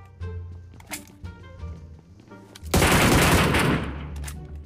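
Loud, sustained burst of automatic gunfire in the mobile battle-royale game PUBG Mobile, a dense rapid volley lasting over a second after quieter game sounds and a few softer shots.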